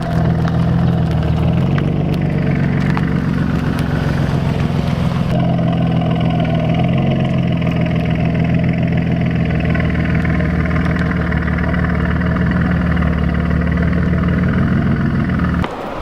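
A Nissan VQ V6 engine in a G35 drones steadily, its tone rising and falling as it revs through the exhaust, loud and close with no talking.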